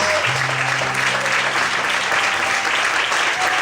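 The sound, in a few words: congregation applauding in church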